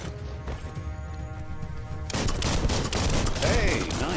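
Gunshots from the game Biomutant rattle in quick, dense bursts that start about halfway through, replacing a quieter ambient bed and layered over other in-game effects.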